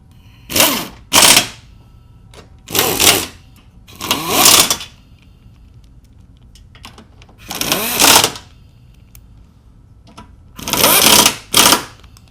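A power tool drives in 13mm fasteners on a 2002-2006 MINI Cooper S during an alternator replacement, heard as about six loud, close, buzzing bursts of a second or so each, separated by quiet pauses.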